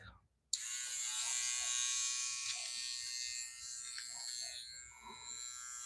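Electric eyebrow trimmer buzzing close up after a brief click start, a steady high whine that runs continuously and dips slightly near the end, with faint voices underneath.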